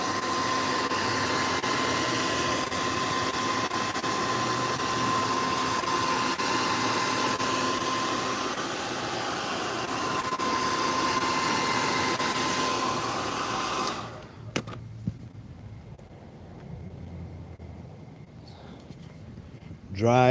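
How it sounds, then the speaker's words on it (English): A blow dryer runs with a steady loud whooshing hum for about fourteen seconds while drying paint weathering on a Nerf blaster, then cuts off, leaving quiet room sound with a few small clicks. "Under the heat of my mighty blow dryer."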